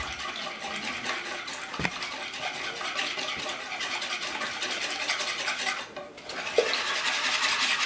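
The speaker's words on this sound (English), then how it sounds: "So I'm just going to beat these up for a bit." Eggs beaten briskly in a bowl for an omelet: a continuous, rapid scraping and tapping of the whisk against the bowl, fairly close, with a brief clink near the end.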